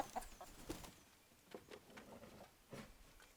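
Chickens in a raised backyard coop give soft, scattered clucks and short calls at close range, with rustling and shuffling between them and no talk.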